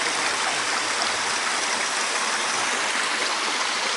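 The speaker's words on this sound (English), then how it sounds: "there's a Regent's Park waterfall right there." Steady, close rush of falling water from a small waterfall in Regent's Park, London, a continuous broadband splashing roar with no talk over it.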